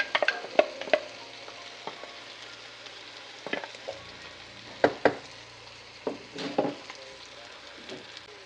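Tomato puree and cashew paste hitting a hot pan for mushroom masala, with a low sizzle under repeated sharp spoon clinks and scrapes of stirring, close and fairly quiet.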